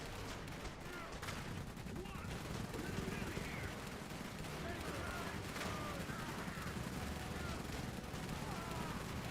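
Dense, continuous gunfire and distant artillery in the Iron Harvest dieselpunk post-WWI mech strategy game, a steady rumbling barrage with a voice calling out over it.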